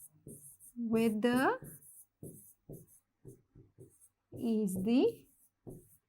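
Writing strokes on a classroom board in a grade six science lesson on weather and climate, a series of short scratchy taps and scrapes, with a teacher speaking in between.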